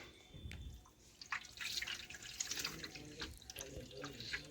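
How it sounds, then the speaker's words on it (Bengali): Rice-washing water pours off into a sink, a splashing, dripping trickle at close range, running steadily for several seconds. "এ দেখুন আবারও জলটা ফেলে দিচ্ছি।"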